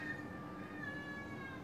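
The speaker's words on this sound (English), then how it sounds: "And that's him meowing right there." A cat gives one drawn-out, slightly wavering meow, quiet and close, heard alone without any talking.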